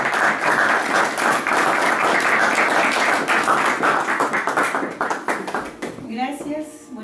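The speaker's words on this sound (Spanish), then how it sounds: "Primero recibimos con aplausos el saludo de doña Celi." Crowd applause greets a speaker at a cultural gathering in Sucre, a dense steady clapping that fills most of the stretch, then thins out and fades as a voice begins talking near the end.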